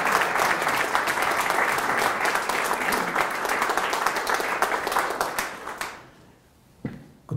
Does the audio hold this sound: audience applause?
yes